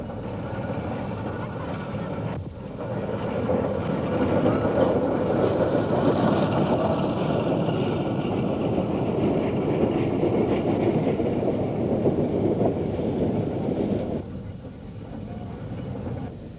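The Sans Pareil steam locomotive runs past as a continuous, fairly loud rumble and chuffing rush that swells after a couple of seconds, holds steady, then eases near the end.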